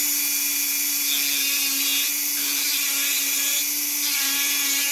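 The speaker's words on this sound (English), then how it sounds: "This is the Quetzal Extreme Burr," A Quetzal Extreme Flame Burr on a rotary tool carves a wooden spoon, giving a steady high-pitched whine with a constant tone and a grinding rasp that swells and eases as the burr bites into the wood.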